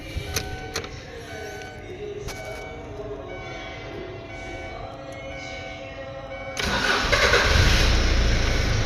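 A Kia Pregio with a 2.7 engine, just repaired after hard starting, misfiring and smoke, cranks briefly and catches, then idles loudly and close after a few quiet seconds of workshop clatter.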